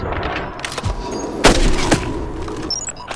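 A single loud, sharp gunshot cracks close by during a tense armed operation among hostiles, followed by a short echoing tail and a faint high electronic tone.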